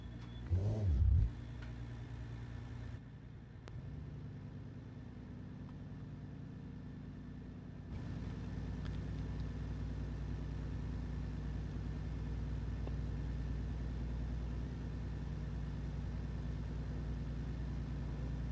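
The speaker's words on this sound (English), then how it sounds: "There is the safety car." A safety car engine in a Formula Three racing game, a faint mid-pitched engine that surges briefly at first, drops away, then settles into a steady, low continuous drone.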